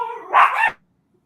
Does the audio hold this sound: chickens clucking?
no